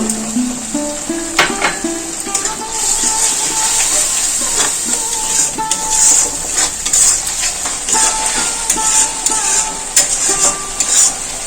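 Spice masala with Kashmiri chilli powder stirred and fried in a pan, a steady sizzle under repeated scraping and clinking of a spoon against metal, close and fairly loud, with faint tonal background sounds and no clear talk.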